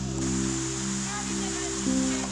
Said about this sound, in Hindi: झरने झरने उफान मार रहे पूरे, अपनी हाई स्पीड पे चल रहे हैं।